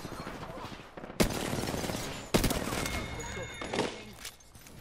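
Loud gunfire in an Apex Legends match, with two sharp heavy shots cracking out amid sustained rattling fire and a final burst, while players talk over the action.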